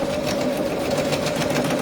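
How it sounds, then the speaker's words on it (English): A sewing machine stitches a bag with a steady, close, whirring hum that runs without a break. "So I'm just going to sew this in now."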